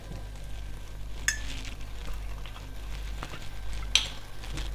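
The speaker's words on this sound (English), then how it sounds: "the pot is hot. It's beginning to sizzle. I'm just gonna add my balsamic vinegar in there." Faint, steady sizzling from balsamic vinegar added to a hot pot, with a low hum beneath, punctuated by a couple of brief sharp clinks or spatters.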